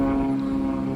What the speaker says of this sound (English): airplane going past, flying above there.